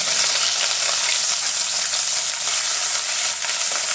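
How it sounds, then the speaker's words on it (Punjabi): Pounded garlic and ginger with cumin sizzle in hot oil in a pan while cooking aloo kofta curry, a steady, loud, bright crackling hiss that continues without pause and with no talk. "2 ਮਿੰਟ ਵਾਸਤੇ ਲਸਣ ਅਦਰਕ ਨੂੰ ਫਰਾਈ ਕਰ ਲਵਾਂਗੇ"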